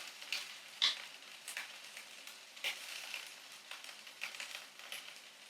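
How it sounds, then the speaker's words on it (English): Romaine lettuce sizzling on a grill, a faint, uneven crackle and hiss with scattered sharper pops, quiet and without talk. "my romaine has been on the grill for about 2 minutes now"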